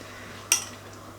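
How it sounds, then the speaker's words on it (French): A single clink of cutlery against a plate as food is served in a home kitchen. The clink is brief and moderately close over a quiet background, with no talk. "Hop, je te fais ton assiette hein chérie."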